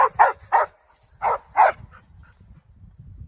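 A dog barks at a chipmunk it has chased up a tree outdoors on a camping hike, giving five sharp, close barks in quick clusters before falling quiet amid faint background rustle.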